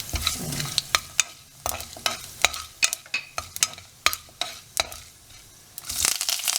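Cashews, fennel seeds and cinnamon frying in oil for a poori potato masala, with rapid, sharp crackles and pops bursting irregularly over a low sizzle, close and fairly loud, swelling into a denser hiss at the end.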